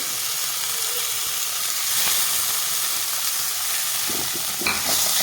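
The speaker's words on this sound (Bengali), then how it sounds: "তো চালটাকে আমি ভেজে নেব সুন্দর করে একটু হালকা করে ভেজে নেব" Soaked Gobindobhog rice frying in a pan gives a steady close sizzle and hiss, with occasional light stirring scrapes toward the end.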